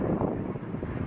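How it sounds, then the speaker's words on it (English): A radio-controlled model airplane engine runs steadily and loud throughout with a continuous droning buzz, mixed with some wind rumble at the microphone. "I think I'm gonna try the plane now"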